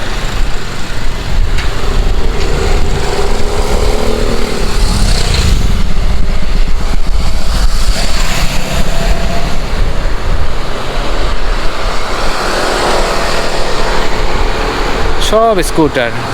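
Scooter engines and passing traffic rumble continuously at a red-light signal on a Pattaya street, with a person talking over the steady, loud road noise.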